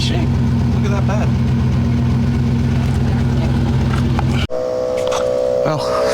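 A small air compressor fills the 80-psi tires of a 1992 GMC C3500 pickup truck, droning loud and steady with a strong low hum for about four and a half seconds before cutting off to a quieter mechanical tone.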